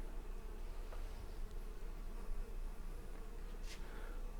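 A soft, continuous buzzing of small jataí stingless bees hums close by, steady and low with faint flickers of wingbeats.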